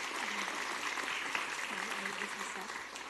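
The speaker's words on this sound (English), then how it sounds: "Round of applause," A city council meeting audience gives a round of applause for staff: a continuous wash of clapping from many people in a room, with voices murmuring underneath it.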